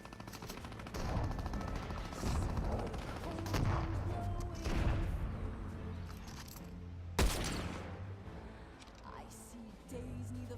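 Gunfire in a first-person shooter video game: rapid bursts of automatic shots and scattered single cracks, fairly faint, with a louder sharp blast partway through.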